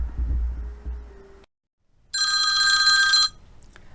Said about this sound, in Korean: 아침에 전화벨이 울릴 때까지